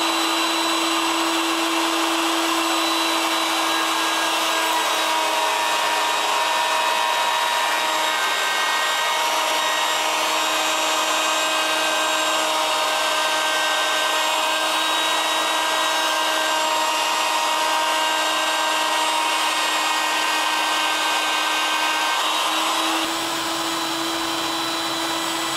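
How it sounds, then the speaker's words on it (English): Router fitted with a bottom-bearing bit cuts cherry wood, a steady loud high-pitched whine sustained for many seconds with no talking, dropping slightly in tone near the end. "use the bit that has the bearing on the bottom. That way we can start from this direction again with the router bit spinning in this direction."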